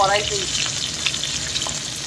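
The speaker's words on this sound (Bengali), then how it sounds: "মাছ ভাজা আর কিছু মাছ ভাজা চলছে এখনও কড়াইতে" Steady loud sizzling of bhetki (barramundi) fish frying in hot oil in a wok, close up and continuous, with faint clinks of a utensil.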